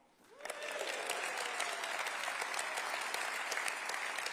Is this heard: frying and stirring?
no